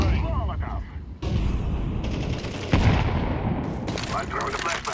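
Flashbang and grenade explosions crash through a video game firefight, with dense gunfire rattling continuously and several sharp loud bursts, close and chaotic, with voices calling out over the din.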